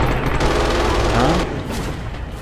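An MG42 machine gun fires in sustained, rapid bursts in the video game Red Orchestra 2 during a tractor factory assault, the loud, dense rattle continuing almost without pause.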